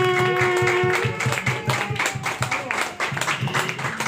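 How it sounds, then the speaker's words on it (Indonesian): Audience clapping welcoming a doctor onto a stage at an Indonesian health talk, fairly close and rhythmic, with music or voices mixed underneath. "Kita berikan tepuk tangan."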